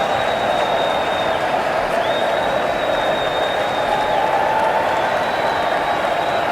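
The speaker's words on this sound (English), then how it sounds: "Listen to this crowd." An arena crowd roars and applauds continuously at a simulated Maryland at Iowa college basketball game, a loud, steady wash of cheering throughout.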